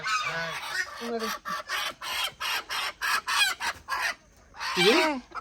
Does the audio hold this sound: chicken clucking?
yes